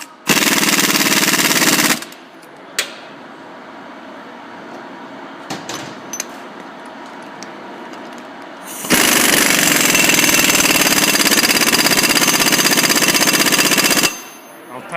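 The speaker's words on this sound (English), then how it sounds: "Tighten that one down as far as the impact will allow me to." An impact wrench hammers a lock nut tight on a supercharger blower's gear, two loud sustained rattling bursts at the start and a longer one later, separated by quieter shop noise.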